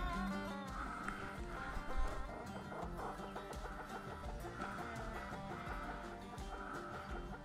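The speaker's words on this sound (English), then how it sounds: "There he goes again, chirping at me." A grouse in a tree clucks and chirps repeatedly from close by, its calls coming in quick irregular bursts over faint background rustle, with no talking.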